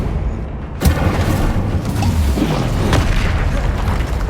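A fiery Incendio spell blast in Hogwarts Legacy, a loud, deep booming roar that starts with a sharp onset and then holds a dense, rumbling burst of flame for several seconds.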